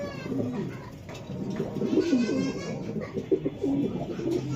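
Racing pigeons coo steadily in a loft or pen, a continuous overlapping run of soft, throaty rolling calls from several birds close by, with no talking.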